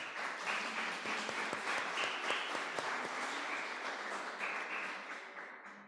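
A church congregation applauds a visitor with sustained, even clapping from many hands that fades out toward the end.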